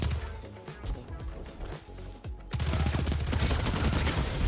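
Rapid bursts of Recluse gunfire in a first-person shooter video game, dense crackling volleys at first, then a brief lull and a louder sustained stretch of fast repeated shots, with no talk.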